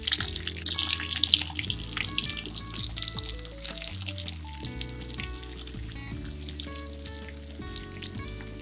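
Sliced onion and green chilies fry in oil and butter with a steady hiss and crackle, backed by a melodic tonal background and no speech.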